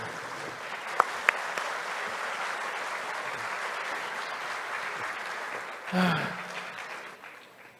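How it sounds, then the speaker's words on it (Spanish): Faint, steady applause from a university forum audience greets three panel guests, a soft wash of clapping with a couple of brief knocks and a louder rustle near the end. "Los recibimos a los tres con un fuertísimo aplauso."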